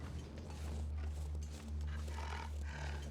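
A wolf snarls and growls in The Long Dark, a low, rough rumble under steady ambient game noise, with heavier bursts near the middle and end of the short stretch.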